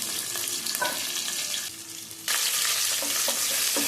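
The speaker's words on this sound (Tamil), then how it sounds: "நல்லா வந்து வெங்காயம் வதக்கட்டும்" Shallots, green chilies and curry leaves sauté in hot oil in a pan for bonda kuzhambu, a crackling sizzle with stirring scrapes that quiets briefly then surges louder, no talking.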